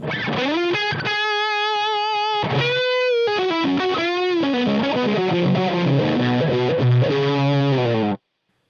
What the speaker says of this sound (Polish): nawet w wzmacniaczach high gainowych rzadko spotyka się tak leisty i głęboki ton, jednocześnie tak przesterowany